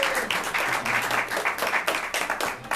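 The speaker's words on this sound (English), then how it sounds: "Give yourselves a round of applause for being so smart" An improv theater audience breaks into dense, sustained applause, a steady wash of many hands clapping at once, loud and close for the whole stretch.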